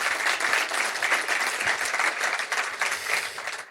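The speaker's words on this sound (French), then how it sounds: "vous pouvez applaudir Antoine" Steady audience applause for Antoine at a sailing race position-report show, a continuous even wash of clapping from a crowd throughout, with no voices over it.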